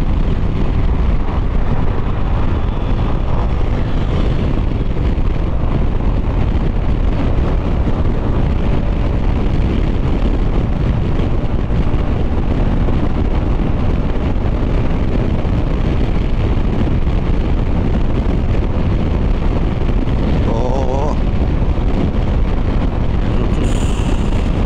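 Steady, loud wind roar buffeting the microphone throughout, a constant rushing blast while riding a KYMCO DTX 360 maxi scooter at speed, with no talk.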